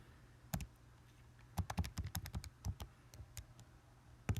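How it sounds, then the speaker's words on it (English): Calculator buttons pressed to enter numbers, a series of close, crisp plastic taps and clicks in irregular quick clusters with short pauses between, quiet and alone with no talking. "Type that all into the calculator."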